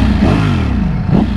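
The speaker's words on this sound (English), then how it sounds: "Ang ganda ng ano, ng rumble ng makina." A Ducati Streetfighter motorcycle engine on the Dubai Autodrome track revs close by, a deep rumble whose pitch climbs and falls in two quick surges.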